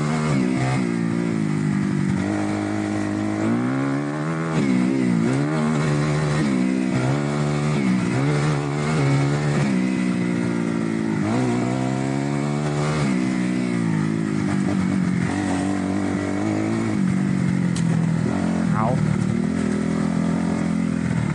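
A dirt bike engine revs continuously during a ride, loud and close, its pitch rising and falling repeatedly as the throttle opens and closes over about twenty seconds, with wind noise throughout.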